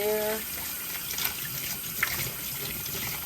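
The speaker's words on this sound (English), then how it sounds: "Just to save on some water, I put my hot water on." Hot water running from a tap into a sink, a steady close splashing rush lasting throughout, with a few small clinks over it.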